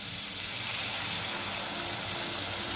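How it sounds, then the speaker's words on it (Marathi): A few spoonfuls of water are poured into a pan of red pumpkin curry cooking on the stove. A steady, fairly soft wet hiss continues evenly throughout. "साधारण 2 ते 3 चमचे पाणी टाकले"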